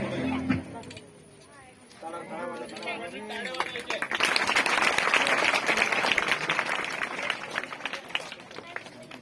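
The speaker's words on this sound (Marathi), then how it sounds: "सर्वांनी टाळ्या वाजवायच्या।" After a few seconds of voices, a crowd at a government residential secondary school event breaks into loud, sustained applause, many hands clapping rapidly and continuing to the end.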